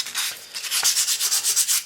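Sandpaper rubs the lip of a plastic propeller in quick, regular back-and-forth strokes, a close, raspy scratching with a steady rhythm and no talk.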